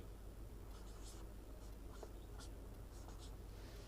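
Writing a formula by hand, with faint scratchy strokes in short bursts that sit low against a steady background hiss.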